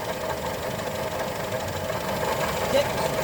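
A car engine idles steadily during throttle adjustment, a continuous mid-pitched rumble with faint knocking vibration, close and fairly loud.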